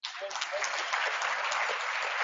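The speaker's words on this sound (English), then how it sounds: "Let's give them a round of applause" An audience at a science conference closing plenary bursts into a sustained round of applause for the winning soccer team. The dense clapping starts abruptly and holds steady throughout.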